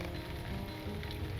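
Steady rain in Lord of the Rings Online, a dense even hiss of falling drops that stays constant and fairly loud throughout, with no voices.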